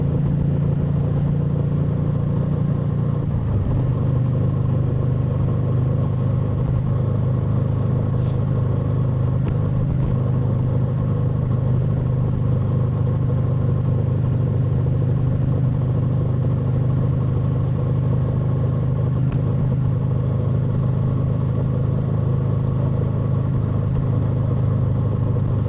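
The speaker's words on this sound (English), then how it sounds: "just trying to keep up with traffic now" A continuous, loud engine and road drone from a vehicle moving along a road in traffic, steady and unbroken with only small surges, no voices.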